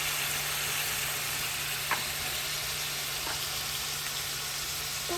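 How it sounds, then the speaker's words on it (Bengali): Meat added little by little to fried onions in a home kitchen pan for a Bengali meat curry, giving a steady, close sizzling hiss with faint clicks and no talking. "এখন তুমি মাংসগুলি আস্তে আস্তে এখানে দিতে থাকো"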